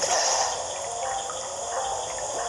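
Water gushing from a pipe in The Legend of Zelda: Majora's Mask 3D, a steady bright rushing flow that stays loud and even from start to finish.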